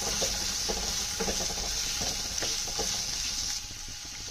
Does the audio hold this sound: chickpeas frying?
yes